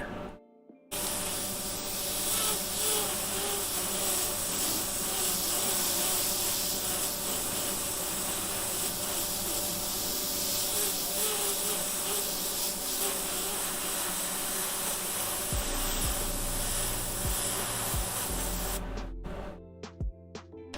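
Steady, continuous hiss of a spray gun running for about eighteen seconds without pause, fairly close, then cutting off near the end.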